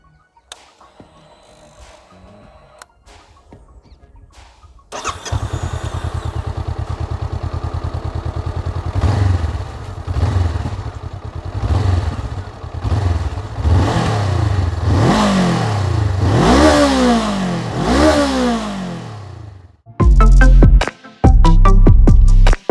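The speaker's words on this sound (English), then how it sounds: "let's hear the exhaust note of this motorcycle" A 2021 Honda CB500X motorcycle engine starts after a few quiet clicks, then idles loudly and revs repeatedly in rising, roaring exhaust bursts before ending with sharp throttle blips.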